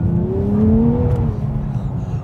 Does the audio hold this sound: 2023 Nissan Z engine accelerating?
yes